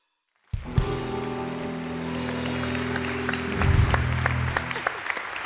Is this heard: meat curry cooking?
no